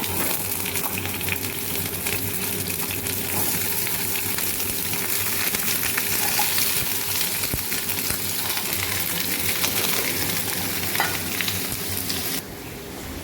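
Potatoes frying in hot oil, a steady loud sizzle and crackle running throughout with occasional stirring clinks, close up and uninterrupted, easing slightly at the very end.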